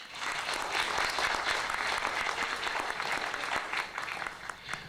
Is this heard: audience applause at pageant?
yes